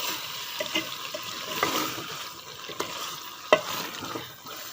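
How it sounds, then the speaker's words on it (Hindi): A cauliflower and potato curry fries in a pot as a spoon stirs it, giving a soft, steady sizzle with occasional scraping clinks against the metal. "अब इसको भून के उतार लेते हैं नीचे"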